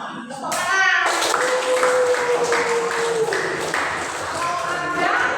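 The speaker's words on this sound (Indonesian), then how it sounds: "Tepuk tangan." A school class clapping hands together in a classroom, a burst of quick, uneven claps from a group of students, with a sustained tone and children's voices mixed in.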